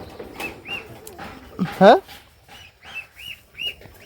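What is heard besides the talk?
goose goslings calling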